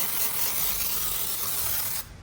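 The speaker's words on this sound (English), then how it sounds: "we can then just spray that on there, just like so" A hand pump sprayer mists cleaner onto a panel of an Audi S5 that sat abandoned for three years, giving a steady close hiss that cuts off abruptly near the end.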